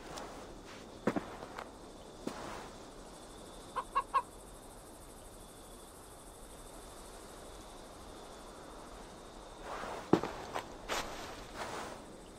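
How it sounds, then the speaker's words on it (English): A chicken in the video game Assassin's Creed Valhalla gives a few short clucks in a quiet outdoor scene, with scattered footsteps and sparse clucking bursts spread out over the stretch. "I see only a chicken."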